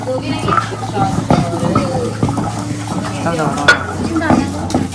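Women grinding vatan, a spice paste, by hand on a flat grinding stone during a traditional Konkan Holi food preparation: a rough, rhythmic scraping mixed with clatter, under constant chatter and voices from a lively group close by.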